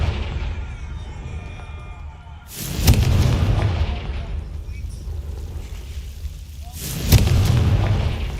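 Two booming blasts of the Confringo explosive spell from Hogwarts Legacy, the first near three seconds and the second near seven, each a loud broadband burst that decays into rumble over a low background.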